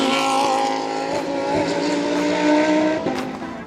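Lamborghini Super Trofeo race cars roar through turn 17 at Sebring, with a loud, high-revving engine note rising and shifting as the cars pass close by.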